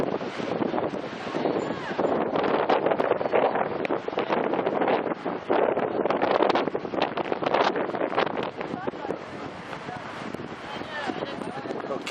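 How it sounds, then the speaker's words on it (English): Strong gusty wind buffets the microphone in an outdoor plaza in Old Town Santa Fe, a loud, rough, continuous roar that surges and eases without pause. "Very windy."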